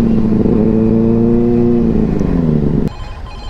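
A superbike engine revs hard with a rising, jet-like whine and a strong harmonic drone, loud and close, then cuts to a lower idle rumble near the end.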